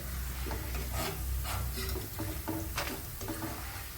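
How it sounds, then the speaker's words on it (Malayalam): Banana chips sizzle in hot oil while a utensil scrapes and stirs to scoop them from the pan, producing repeated clinks over a continuous crackling hiss. "ഉപ്പേരിയൊക്കെ വറുത്ത് കോരുമ്പോൾ സൗണ്ട് വരുന്ന പോലെ കണ്ടോ"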